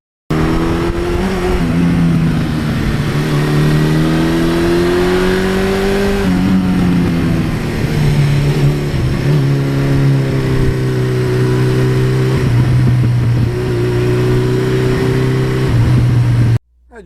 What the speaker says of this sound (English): an iconic engine, a bulletproof engine